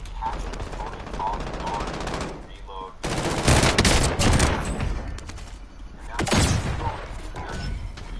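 Automatic gunfire in the Warzone video game, with rapid bursts swelling loud and dense in the middle and again near the end over constant battle noise, with faint voices mixed in.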